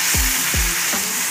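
Tomatoes and curry leaves hit a pan of fried onion for dhaba-style masala chicken, giving a loud, steady sizzle with a few soft stirring thuds.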